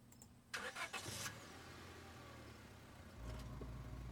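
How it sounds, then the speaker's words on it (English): In the video game Scarlet Hollow, a car engine starts with a brief burst, then settles into a low steady hum as the car drives off, fairly quiet throughout. "the car cuts along the darkened road"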